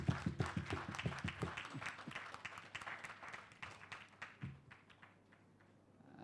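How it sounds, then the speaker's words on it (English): An audience at a senior citizens' spelling bee competition claps, a dense burst of hand claps at first that thins into scattered, fading applause over several seconds. "Can we give her another round of applause,"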